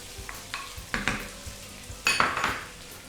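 Chopped onions, about three of them, frying and being stirred in a pan for a vegetable shahi korma, with a few separate clanks and scrapes of a utensil against the pan over a soft sizzle.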